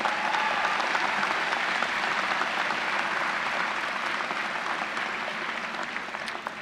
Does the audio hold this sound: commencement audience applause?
yes